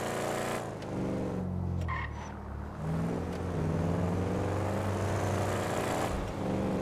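Car driving in GTA 5, engine running steadily with tire squeals and skidding noises throughout, loud and close, no talking.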